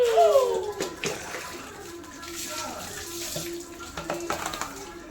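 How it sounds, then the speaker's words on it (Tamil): Water poured over a pet at bath time, splashing and trickling close by, with a whistly high sound at the start and voices talking over the pouring. "தண்ணி ஊத்துறேன்"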